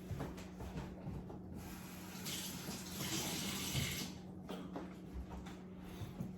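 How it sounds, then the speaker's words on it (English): Tap water runs onto a paper towel being wetted for sprouting seeds: a quiet, steady hiss of flowing water close by, swelling into a brighter spray in the middle, then settling back, with no voices. "First, we're going to wet the paper towel."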